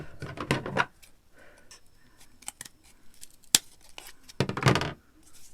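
Scissors roughly cut a piece of material in half while making over a toy dollhouse, with a burst of close crisp snips at the start, a few scattered small clicks, then another quick run of cuts near the end.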